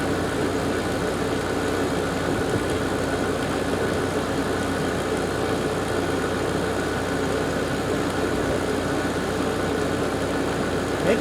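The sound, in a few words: garage air conditioner starting up with a rattle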